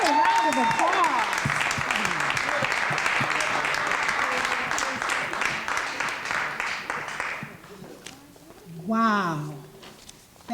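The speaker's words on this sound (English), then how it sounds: "Wow, another round of applause" Loud applause and cheers fill a room at Gloria Pointer's 50th birthday celebration, fading after several seconds as a voice begins speaking over the last scattered claps.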